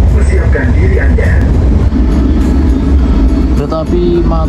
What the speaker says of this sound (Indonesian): Kereta api Mataram masuk di jalur 3 stasiun Cirebon Kejaksan